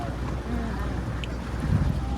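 A boat moves across a lake in Udaipur, giving a low, steady rumble with wind buffeting the microphone and indistinct voices in the background.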